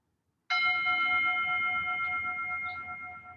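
A meditation bell struck once, with a sudden bright onset and a clear, ringing tone that decays slowly over a few seconds in a quiet room.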